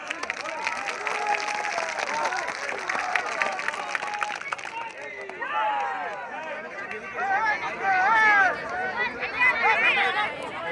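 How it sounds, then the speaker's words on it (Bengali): A crowd at a BJP political rally in Haldibari claps in a dense burst that fades after a few seconds, giving way to someone speaking over the loudspeaker. "তার জন্য জয় হাততালি দেন।"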